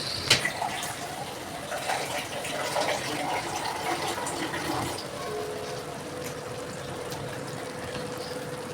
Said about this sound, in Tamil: இந்த மிக்ஸி ஜார்லேயே கொஞ்சம் தண்ணி விட்டு